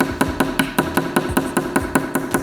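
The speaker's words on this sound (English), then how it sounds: "you can use this to help you finish hammering out the mekugi" A small hammer taps steadily at a katana handle to drive out the mekugi peg, sharp close metallic strikes repeating roughly every fifth of a second over a faint background hum.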